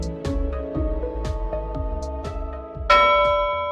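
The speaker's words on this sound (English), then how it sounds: "Ring the bell" A bell sound effect gives a rapid series of bright metallic strikes, then one loud final clang that rings out and slowly decays, with no voices.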